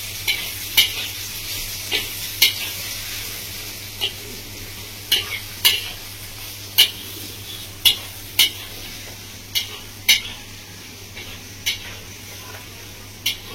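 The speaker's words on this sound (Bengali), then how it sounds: "ভালো করে মশলাটা কষিয়ে নেব।" Spice paste frying in mustard oil for a Bengali village-style katla fish curry with raw mango, a steady sizzle broken by regular, distinct clacks of a spatula stirring against the pan, close and clear with no talk.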